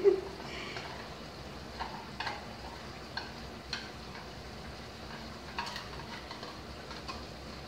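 Soft stirring and scraping of poppy seed paste (posto) with sugar in a pan, quiet intermittent scrapes and taps over a faint sizzle, with a louder knock at the start.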